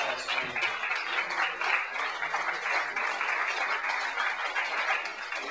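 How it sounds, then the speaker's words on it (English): An audience at a poetry reading claps for the performers, a moderate, steady patter of applause heard from within a smallish room that carries on evenly before thinning slightly toward the end. "give them more applause"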